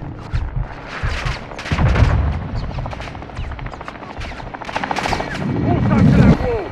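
Helicopter air strike in Call of Duty Modern Warfare II: rapid chattering gunfire bursts over rotor rumble and booming impacts, loud and close, with voices talking over the action.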